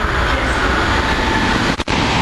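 A Pendolino train passing through a station: a loud, steady broadband roar and rumble close by for the whole stretch, with a brief dip near the end and no voices.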